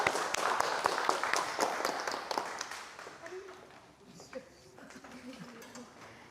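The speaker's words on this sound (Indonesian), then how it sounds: "Yuk silakan tepuk tangan semuanya." Audience clapping at a classroom teaching session, a moderate burst of claps that fades after a few seconds into quieter room noise with faint voices in the background.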